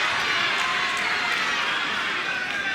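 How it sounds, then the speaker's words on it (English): A boxing arena crowd at a 1994 Larry Holmes versus Garing Lane heavyweight fight gives a steady, broad wash of booing and murmuring that holds at an even level throughout, with no clear voice standing out. "You hear some boos from the crowd."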